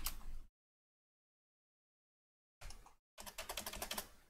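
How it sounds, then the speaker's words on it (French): Rapid clacking keystrokes on a noisy computer keyboard in two bursts separated by silence, close and crisp, the second burst longer and busier. "mon clavier fait beaucoup de bruit quand je tape dessus"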